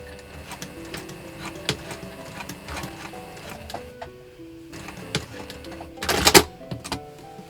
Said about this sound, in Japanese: ここから針刺して返し縫いして縫って、ここで角で終わる。